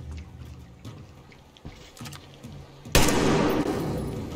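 Gunfire in Metro Exodus: faint scattered shots early on, then a loud sustained burst of rapid fire kicks in near the end and continues densely to the close.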